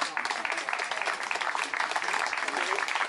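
A small crowd claps at a wedding ceremony just after the couples are pronounced married. The clapping is dense and steady and mixes with murmuring voices.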